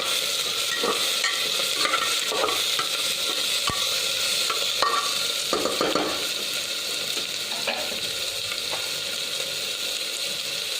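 Thinly sliced onion fries in oil for a Kerala-style black chicken (karinkozhi) curry, giving a steady, close sizzle with occasional stirring scrapes and small crackles throughout, no talking.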